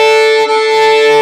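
A bowed double stop on a string instrument, both strings ringing evenly in a steady sustained tone, played alone and close, with one brief dip at a bow change.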